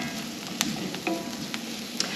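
Mushrooms sauté in butter in a cast iron skillet, a steady close sizzle with small crackling pops scattered across it.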